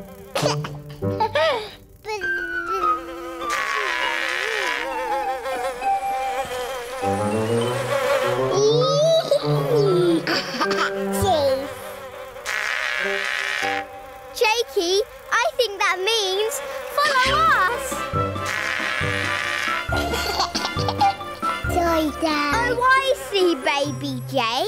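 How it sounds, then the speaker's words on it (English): Cartoon purple space bees buzzing, with wavering, sliding buzzes in repeated bursts, loud and close, broken by short pauses and mixed with playful musical tones. "Baby Jake, purple space bees are making all this sticky space honey."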